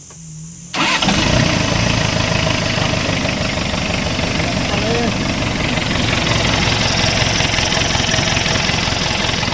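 After a brief quiet moment, an engine that has just had a top overhaul cranks and catches, then settles into a loud, steady, rough idle that carries on to the end, with voices faintly underneath.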